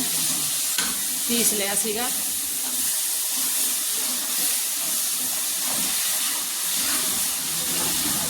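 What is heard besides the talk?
frying tomatoes for aloo pakoda curry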